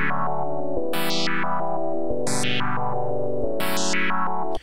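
Sustained synth chords through Ableton 12.2's Auto Filter with sidechain input driving the envelope, pulsing in rhythmic swells, brightness opening and closing in repeating patterns like a pumping filter, with no voices.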